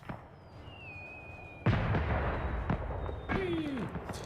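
A couple of sharp fireworks bangs crack out, one with a rising whistle, loud against a steady background hiss.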